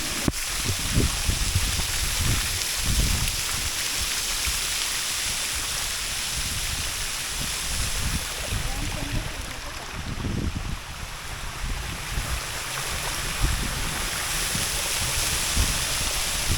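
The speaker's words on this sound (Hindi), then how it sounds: "तो गाइस ये था पोरिया वाटरफॉल जो कि कोरबा डिस्ट्रिक्ट में ही आता है" Pooriya waterfall in Korba district during the rainy season: a steady, dense roar of falling water that stays constant throughout, with occasional low rumbling gusts.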